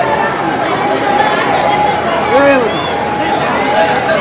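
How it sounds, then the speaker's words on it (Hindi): A large, dense crowd at the Baba Tajuddin Urs gathering, with steady babble, footsteps and movement all around, and nearby voices chatting over the constant hubbub. "पब्लिक की भीड़।"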